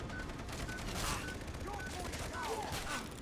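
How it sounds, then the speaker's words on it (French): Machine gun fire in the video game Far Cry 3 rattles in rapid bursts, fairly quiet and mixed with talking. "Arrête pas d'utiliser la mitrailleuse."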